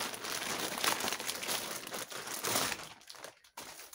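Packaging of a potato grow bag is torn open and crinkled by hand, with steady close rustling and crumpling for several seconds before a few brief pauses near the end.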